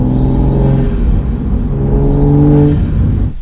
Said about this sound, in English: Slowly accelerating, you can hear the turbo spooling.